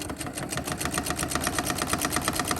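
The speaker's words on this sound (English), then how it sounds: "I'm going to go ahead and chain sew these." A sewing machine chain sewing quilt pieces at a 2.4 stitch length, giving a rapid, even mechanical chatter of needle strokes that runs steadily and up close with no talking.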